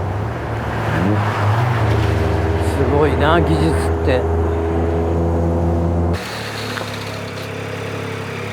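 A hydrogen-fuelled Toyota Corolla engine rumbles steadily and revs up and down, loud and close, while a person speaks briefly over it before the engine settles to a lower idle.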